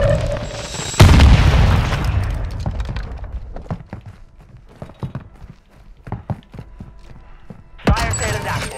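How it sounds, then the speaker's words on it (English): A smoke grenade tossed during a Call of Duty Warzone Resurgence match on the Vondel map: a loud, close thump and whoosh of the throw and burst, then scattered footsteps and small impacts, with a sharper thud near the end. "Tossing smoke grenade!"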